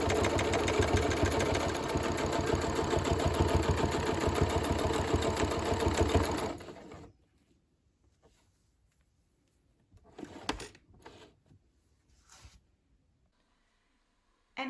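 A sewing machine doing free motion quilting with a ruler foot runs steadily and loudly for about six seconds, then stops, followed by near silence with a few brief soft handling sounds.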